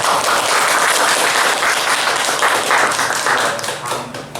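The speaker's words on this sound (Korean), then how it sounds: "선생님 박수를." An audience applauds a lecturer at an energy self-reliance talk on pumped-storage power, dense continuous clapping from many hands that holds steady and then begins to thin toward the end.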